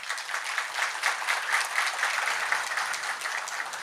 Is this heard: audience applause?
yes